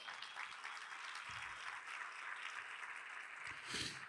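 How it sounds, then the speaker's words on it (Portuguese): A round of applause from a church congregation fills the space, dense and steady for about four seconds and swelling slightly near the end, with no voices over it. "uma salva de palmas"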